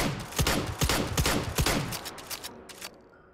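Slam fire from a gun in the VR game Hot Dogs, Horseshoes & Hand Grenades, a quick rhythmic burst of about eight sharp close shots that trail off into quieter clicks.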